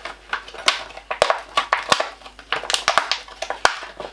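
A homemade chocolate Easter egg, very thin, crumbles and cracks as it comes out of its mould, giving a run of close, crisp snapping and crunching bursts with brief pauses between them and no talk.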